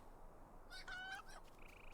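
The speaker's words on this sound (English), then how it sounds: "The goose escaped again." A goose in the LOTRO video game gives a short honking call, brief and fairly faint over a quiet game backdrop.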